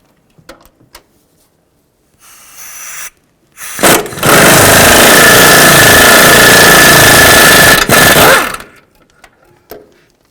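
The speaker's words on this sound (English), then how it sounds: "Use a 15mm socket, take those bolts out." A power tool, likely an impact wrench with a 15mm socket, removes engine mount bolts on a 2000-2006 Chevy Tahoe: a brief burst, then a loud continuous rattling whir for about four seconds, with clanks before and after.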